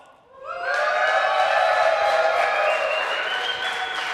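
A crowd at a LAN esports tournament bursts into sustained cheering and whooping after a brief lull, loud and dense, with voices shouting throughout and slowly fading at the end.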